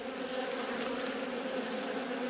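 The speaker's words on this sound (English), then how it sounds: "Again, just bees hanging out in the hive." Dense, steady buzzing fills an open beehive on a cold late-season day as many bees cluster at home, a close, continuous hum with no voices.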